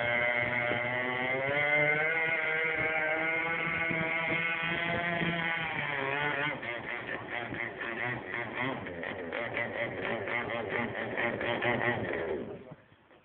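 A giant 84-inch Bonzi RC model powerboat with twin Zenoah engines, one of them cut out, drones steadily at a model boat club pond. The engine note wavers and pulses before fading away at the end.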